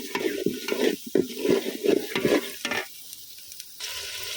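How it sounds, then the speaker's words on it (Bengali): Spice paste of ground coriander, turmeric and chili for a beef and potato curry, stirred and fried in oil on a clay stove: repeated scraping stir strokes over a steady close sizzle, with no talk. "এখন এটা আমি একটু পানি দিয়ে ভালোভাবে কষাই নিব।"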